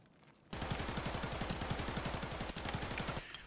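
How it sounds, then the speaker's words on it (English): Video game gunfire from a firefight inside a mall: a sustained burst of rapid automatic shots lasting nearly three seconds, loud and evenly spaced, with no speech. "There's a serious firefight going on inside the mall. I apologize for the noise."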